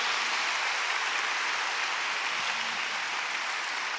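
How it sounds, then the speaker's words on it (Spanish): Steady, dense applause from a church congregation fills the space evenly at a constant level throughout, with no pauses or speech. "Dale un aplauso fuerte al Señor."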